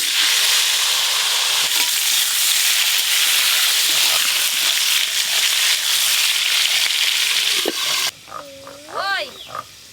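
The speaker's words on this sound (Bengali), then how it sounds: "আলুগুলো লাল লাল করে ভাজবো।" Potatoes fry in hot oil for a chicken curry, a loud steady sizzle that cuts off near the end, followed by a short squeaky vocal sound.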